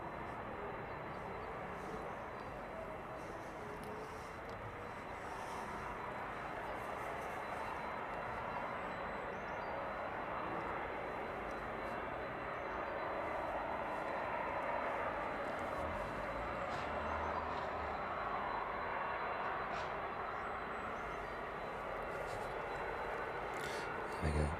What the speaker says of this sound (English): And that 767 gets in a little bit closer as well